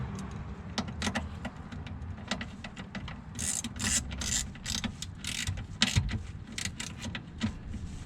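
A screwdriver tightens a screw on a bracket of a Mazda 2 while an inerter/TMD upgrade is installed. Rapid close metallic clicks and scraping repeat over a low background rumble.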